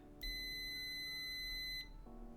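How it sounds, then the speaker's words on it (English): A multimeter gives a single steady continuity-test beep while probes touch a circuit on a Ruby amplifier build. The clear, high tone lasts about a second and a half, then stops, leaving a low hum behind it. "it should theoretically beep if it's, you know, connected"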